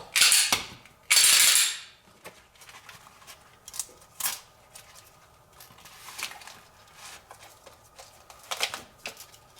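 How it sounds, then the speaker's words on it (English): A Velcro strap is fastened on a Condition Zero pistol mount: two loud ripping tears open the clip, followed by quieter scattered clicks and rustles of handling nearby. "let's set the Velcro here."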